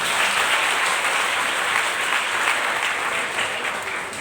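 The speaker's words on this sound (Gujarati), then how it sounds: "એ દરેક વિદ્યાર્થીઓ માટે એકવાર જોરદાર તાળીઓ." Loud, dense clapping from an audience at a school prize-giving ceremony for students, sustained evenly throughout and easing slightly at the end.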